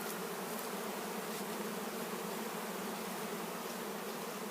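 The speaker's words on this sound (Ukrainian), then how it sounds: "На пасці починається гул. бджоли б'ються, залітають вулики." Bees hum in a dense, steady drone around hives at an apiary, continuous and even throughout with no voices.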